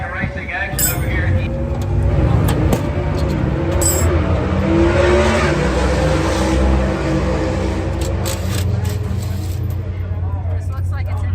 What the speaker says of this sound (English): back to racing action over here